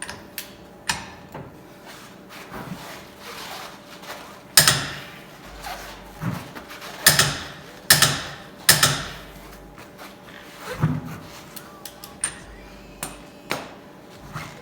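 Sharp, irregular mechanical clicks and clanks come from a wrench ratcheting down a UTV axle nut, close and fairly loud, with short pauses between strokes.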